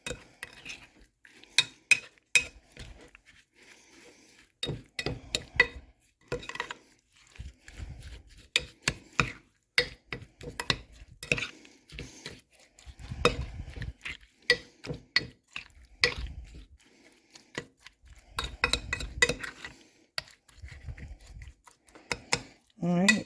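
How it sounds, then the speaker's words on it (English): Sugar and flour being stirred together in a bowl for a crumble dessert, giving irregular scraping and clinking strokes at close range with quiet gaps between them. "Mix everything together."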